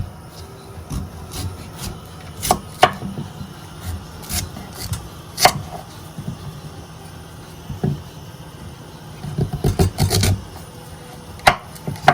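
Green peas for a Grenadian pea soup being cut by hand with a knife, no board, giving scattered scraping, rasping slices and small taps, close and fairly quiet, with no talking.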